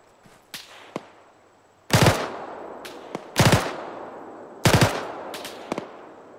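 Gunfire in the military shooter ArmA 3: three loud, sharp bursts of close automatic fire with ringing tails, separated by pauses and by fainter distant single shots in between.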